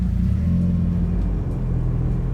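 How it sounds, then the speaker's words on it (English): Honda Civic EG with a swapped B18 engine idles and creeps onto a workshop ramp, its low, steady engine rumble loud and close throughout, with no voices. "let's get this Civic in on the ramp"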